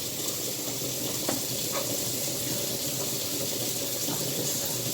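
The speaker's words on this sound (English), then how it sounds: "I'm just continuing to give it a good stir, a good mix." A spoon stirs spaghetti noodles in a pot, giving a soft, continuous wet sloshing and scraping with a few faint clinks, quiet and close.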